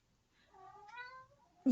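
A cat gives a drawn-out, wavering meow lasting about a second, fairly close and clear, ending in a sudden louder bump; no talk.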